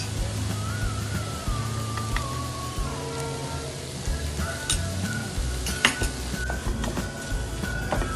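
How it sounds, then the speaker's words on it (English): Green chili and ginger paste frying in a pan for a vrat dosa dish, a steady close sizzle with occasional stirring scrapes and light clinks, alone without talk. "Add green chili and ginger paste into it and salt according to your taste."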